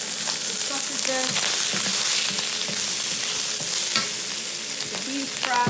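Sausages stir-fried in hot oil in a wok for char kuay teow, a loud close sizzle punctuated by several sharp metallic clanks and scrapes of the spatula.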